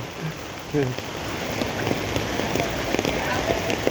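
Rain pattering steadily on a surface close by in rural farmland, with a few louder drops and a brief voice early on.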